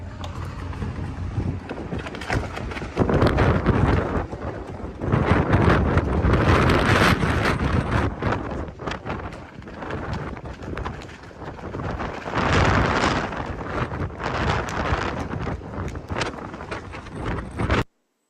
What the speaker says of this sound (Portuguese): vocês vão ouvir o barulho do vento